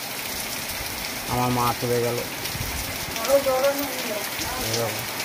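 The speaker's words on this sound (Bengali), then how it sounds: "বৃষ্টিটা এ দেখো, সকাল থেকে মুষলধারে বৃষ্টি চলছে" A steady heavy downpour hisses continuously in the background while a person speaks briefly over it in a few short phrases.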